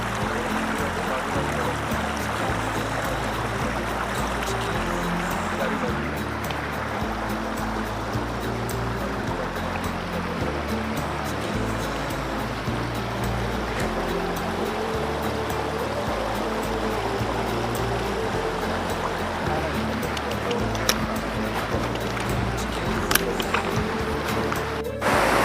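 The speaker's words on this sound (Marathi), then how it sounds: "हे बघा या ठिकाणी किती छान पाणी वाहते" A large stream rushes steadily past at close range near waterfalls below a dam, forming a dense, unbroken roar of flowing water with no voices.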